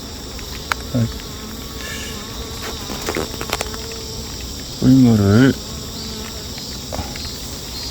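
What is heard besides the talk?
honeybees buzzing around a hive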